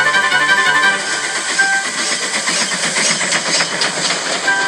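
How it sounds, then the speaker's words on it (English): Toy Thomas the Tank Engine steam locomotive from the Tomy range running under its own power: a loud, continuous hissing chuff with a mechanical rattle and faint whistle-like tones, steady throughout. "He steamed gently back into Knapford Station."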